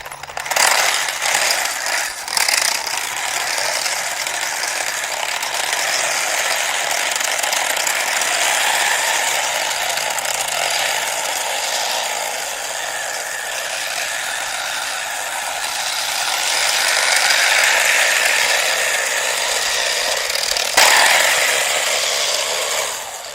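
A toy speed tank upgraded with brushless 2212 motors runs at full throttle, giving a loud continuous whirring, rattling mechanical drone with a slight swell near the end, no talk.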